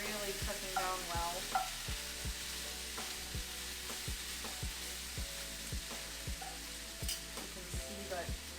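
Fajita vegetables sizzling in a pan as they char, a soft continuous sizzle broken by regular spatula taps and stirring clicks, close but quiet.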